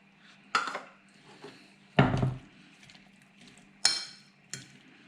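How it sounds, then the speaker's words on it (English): A tuna and red bean salad being mixed in a bowl, with a few separate scraping clinks and one heavier clunk of a utensil against the dish, spaced irregularly and fairly quiet. "Have to mix it really good."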